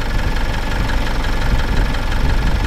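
A truck's engine idles steadily after an engine swap, warming up on an outback roadside in Australia, as a loud, dense, continuous rumble with a fast, even knock-like pulse, close by and without voices.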